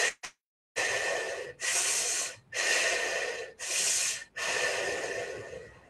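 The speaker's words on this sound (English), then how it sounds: "we suck in through the mouth as though sucking in through a straw and breathing out" Breath is drawn hard through pursed lips as if through a straw, then pushed out, making loud, close hissing in and out in several long, even cycles after a brief opening sniff.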